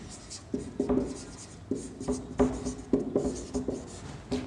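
Chalk writing a maths problem on a classroom board: a series of short scratchy strokes and taps in an irregular rhythm, close and clear, with a teacher's voice talking in between.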